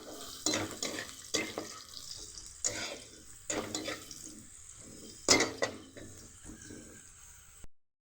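Carrots fry in a pan for masala pasta while a utensil stirs them, producing a soft background sizzle broken by several distinct scraping clatters, fairly quiet and close, ending abruptly.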